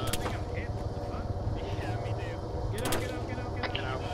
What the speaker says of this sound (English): Yeah, we're getting shot.